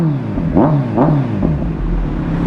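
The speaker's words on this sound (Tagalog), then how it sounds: "Test na natin yung ingay ni Ninja 1000." A Kawasaki Ninja 1000SX inline-four fitted with a new SC Project carbon exhaust blips its throttle close by, two sharp revs rising and falling back, then a third softer one before settling to a bassy idle.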